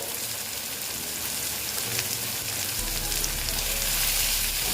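Potatoes and onions frying in a pan for a Bengali tangra fish curry, a steady dense sizzle heard close and alone, holding evenly throughout with no voices.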